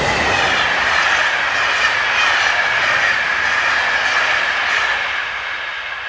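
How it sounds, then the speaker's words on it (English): French electric locomotive 26032 hauling a Paris-Toulouse passenger train rolls steadily past nearby, wheels hissing and rumbling on the rails, fading slightly toward the end. "Not long behind the previous train is 26032, seen working the 752 Paris-Toulouse."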